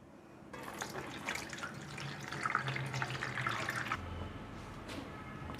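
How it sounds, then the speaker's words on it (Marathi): Water pours and splashes as soaking water is drained off soaked mixed lentils in a kitchen, a steady rushing trickle with liquid gurgling that runs for several seconds before trailing off into faint drips. "तर डाळीतलं पाणी मी काढून घेते."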